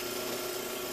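A Forstner bit bores into wood while a nest box is prepped for beekeeping, giving a steady, unbroken drilling whir that stays close and even from start to finish.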